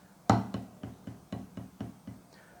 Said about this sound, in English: In this case, it's a left-handed paradiddle,